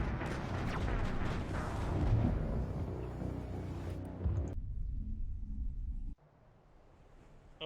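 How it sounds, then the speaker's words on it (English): A turret firing in Mass Effect 2, a dense burst of heavy booming shots and rumble that cuts off abruptly, then quieter mechanical ambience. "Did that turret shoot me?"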